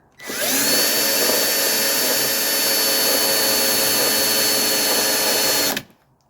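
A small power drill fitted with a 1/16-inch bit whines at high speed for several seconds, loud and close, then cuts off abruptly.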